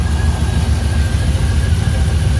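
A 1965 Chevrolet Bel Air with a swapped-in LS V8 idles steadily up close, giving a loud, even, low rumble with no voices over it.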